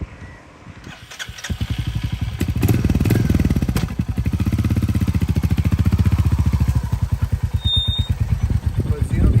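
A Royal Enfield Hunter 350 motorcycle cranks and catches after about a second, then settles into a loud, close, steady thumping idle with a rhythmic single-cylinder pulse that runs to the end.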